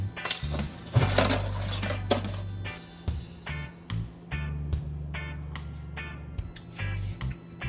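A spoon clinks and scrapes against a cup while a mango pineapple Hennessy cocktail smoothie is mixed, giving irregular sharp metallic taps and rattles over low rumbling stirring, close and fairly loud.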